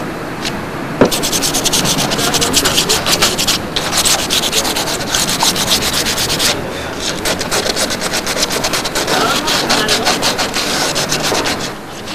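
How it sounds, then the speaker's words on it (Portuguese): The ends of sewer pipes and the sockets of their fittings are sanded in loud, close, continuous rasping strokes that keep a fast, even rhythm for the whole stretch. "Depois você vai lixar as pontas dos tubos e as bolsas das conexões."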